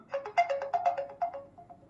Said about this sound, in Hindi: तो यहाँ पे आपको मिलते हैं दो रिंगटोन एक होता है काम